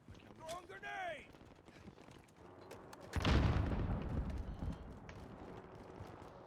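A grenade bursts in a video game battle as one loud, rumbling explosion partway through, trailing into scattered gunfire and debris, preceded by quieter clicks and a short rising electronic chirp.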